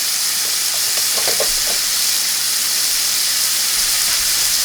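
Shrimp cook over high heat in a pan with a loud, constant hiss of sizzling oil and a few faint stirring clicks early on.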